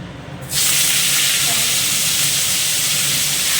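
Water lily stems dropped into hot oil with dried chili set off a sudden loud, steady sizzle that holds strong and close after a brief quieter moment.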